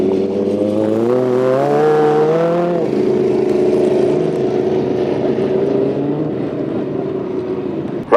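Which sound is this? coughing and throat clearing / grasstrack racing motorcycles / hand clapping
grasstrack racing motorcycles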